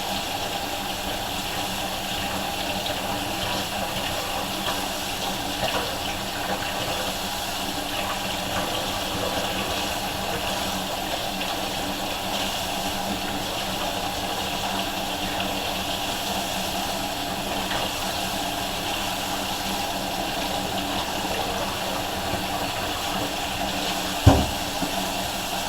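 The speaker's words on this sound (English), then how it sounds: "I'm about to wash these peppers so I can cut them up" Tap water runs steadily for about twenty-five seconds while peppers are washed under it in a home kitchen while making Southern cabbage, a continuous rushing flow with a single sharp knock near the end.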